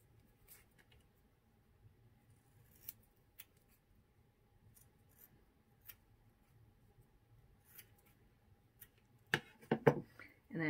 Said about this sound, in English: Trim up your pages.